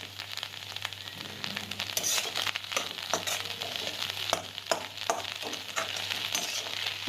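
Bharangi wild greens with cooked dal fry and sizzle in a pan, with busy crackling and repeated scraping stirs of a spatula close by, and no voices.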